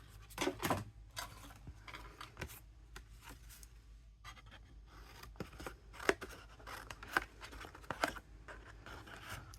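Scissors snip around a paper circle in a series of short, close crisp cuts with brief pauses and soft paper rustling between them, fairly quiet overall.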